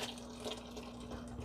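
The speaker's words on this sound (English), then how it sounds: "So we're just going to pour this in here." Red pea soup with pig tail being poured into a pot, a steady close liquid rush and splash that continues throughout without talk.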